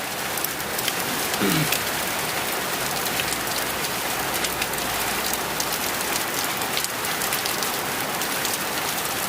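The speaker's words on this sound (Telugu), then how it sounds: "వర్షం వస్తుంది చూడండి ఒకసారి." Steady rain patters on a surface, a dense continuous hiss of drops close by, with no voices.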